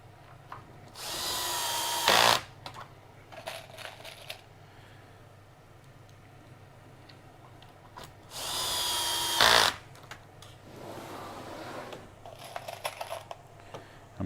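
A power drill drives the last screws into a corner of a melamine drawer, two loud whirring bursts separated by quieter handling clicks and shuffling.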